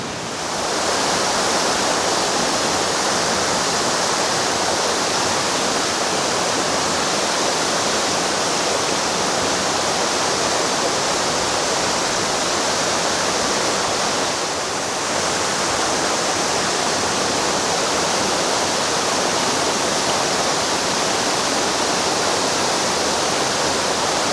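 Athinivala waterfall in Mandaram Nuwara, Sri Lanka, roars steadily throughout, a dense, unbroken rush of falling water with a brief slight dip midway.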